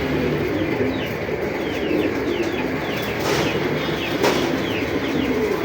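A male racing pigeon, a strong caller, cooing amid a dense, steady wash of other birds in a busy loft, with faint chirps layered on top.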